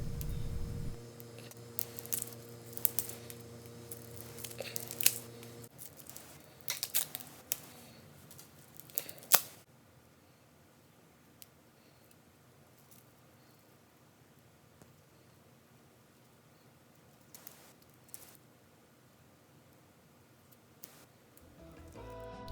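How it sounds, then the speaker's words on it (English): Protective stickers peeled off a new Pagani Design Submariner PD-1639 wristwatch, heard as faint close ticks, crackles and small scratchy peels. Denser activity comes in the first ten seconds, followed by a quieter stretch of sparse light clicks. "for all you ASMR lovers, here's me peeling off the stickers"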